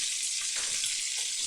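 Fatty fish fries in a pan of hot oil, giving a steady, dense sizzle that holds evenly throughout with no talking over it.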